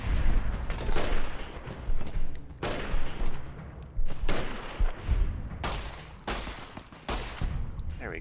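Gunshots ring out in a Fallout game, repeated heavy booming bursts of gunfire at a fairly regular rhythm, loud and close with no talking.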